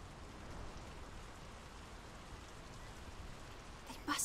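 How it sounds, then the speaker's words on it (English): Steady rainfall in the video game Draugen, a dense even hiss of rain on surfaces filling the whole stretch at moderate level, swelling slightly at the very end. "The rain's picking up."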